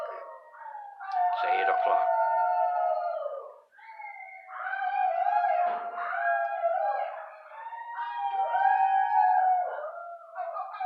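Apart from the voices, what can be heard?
howling outside at 8 o'clock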